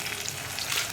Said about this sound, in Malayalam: ഇത് രണ്ടും ചേർത്ത് നന്നായിട്ടൊന്ന് വഴറ്റിയെടുക്കുക.